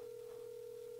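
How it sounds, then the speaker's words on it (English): A phone rings with a steady, faint electronic tone held unbroken for about a second, thin and continuous with no voices over it. "and phone rings."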